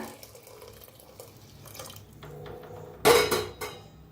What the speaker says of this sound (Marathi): आता ह्याच्यात गरम पाणी ओतूया